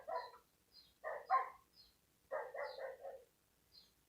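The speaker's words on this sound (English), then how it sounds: "Yes, that's my dog in the background." A pet dog barks in short bursts of two or three yaps, fairly faint and somewhat distant, with quiet gaps between the barks.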